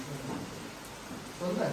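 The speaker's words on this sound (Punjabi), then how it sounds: "ਇੰਨਾ ਭਾਰੀ ਮੀਂਹ ਦੇਖ ਕੇ ਹੀ ਆਪਣੇ ਮਤਲਬ ਦਿਲ ਨੂੰ ਹੌਲ ਪੈਂਦੇ ਨੇ ਵੀ ਇਹ ਮੀਂਹ ਕਿਉਂ ਨਹੀਂ ਹਟਦਾ" Heavy rain during flooding, a steady mid-level hiss of falling rain with faint talk mixed in.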